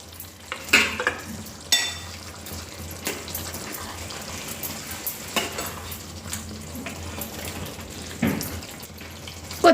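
Fried paneer cubes are stirred into a mixed vegetable masala curry in a pan, with a utensil scraping and clacking at intervals over a soft, steady sizzle.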